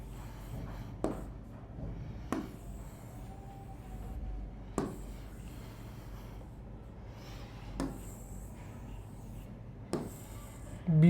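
Writing on a board during a math lecture on matrices and determinants comes through as faint scratching, punctuated by a handful of sharp taps spaced a second or two apart in a quiet room.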